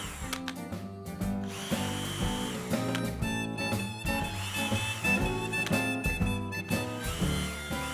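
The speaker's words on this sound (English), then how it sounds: "drill a hole through the center" A power drill whirs in repeated bursts, spinning up and bogging down as it bores through material, close and steady with brief pauses between runs.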